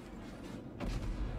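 A Minekaze destroyer's guns firing in World of Warships, a dull muffled boom arriving partway through over a low rumbling background, fairly quiet and distant.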